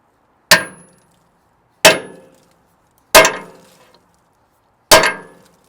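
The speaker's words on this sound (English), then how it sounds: "The way this works is you just whack it with a hammer." Four sharp metallic hammer strikes on a wire crimping tool, evenly spaced about a second and a bit apart, each ringing briefly before fading.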